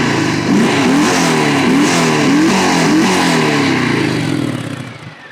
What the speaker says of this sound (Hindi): मैं यहाँ पे खड़ा हूँ, ये आइडल साउंड है। एक बार थ्रॉटल हल्का सा दो।